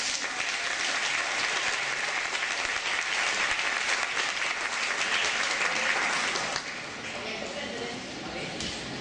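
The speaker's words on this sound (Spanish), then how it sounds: "Les pido un aplauso." Audience gives sustained, dense applause at an arts-project event, loud and continuous before easing slightly near the end, with faint voices underneath.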